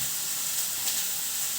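Turmeric, chilli and other spice powders fry in hot oil for a ridge gourd dish, producing a steady, close, even hiss that holds at one level for the whole moment.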